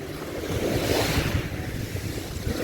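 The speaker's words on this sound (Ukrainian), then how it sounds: "Середні, я б сказала, не критичні хвилі." Sea waves wash continuously onto a beach, a steady surf roar with wind buffeting the microphone and no voices.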